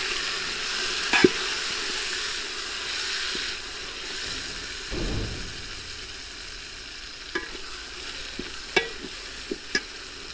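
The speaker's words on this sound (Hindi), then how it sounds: "इनको भी तकरीबन 2 से 3 मिनट अच्छे से फ्राई कर लेंगे।" Tomatoes and green chilies fry with browned onion and garlic in a pan, giving a steady close sizzle with occasional stirring scrapes and light clinks of a utensil.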